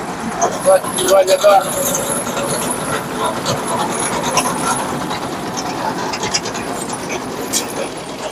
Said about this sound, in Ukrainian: Трактор тягне